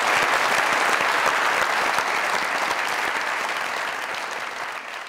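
Dense, sustained applause from a studio audience at a comedy show, greeting a contestant who won abroad; steady and loud throughout, tapering slightly toward the end.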